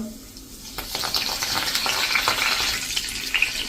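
Asafoetida and curry leaves crackle and sizzle in hot oil with cumin and a bay leaf, at the start of a sev tomato curry. The sound is close and keeps up a dense hiss with sharp pops, and no one speaks over it.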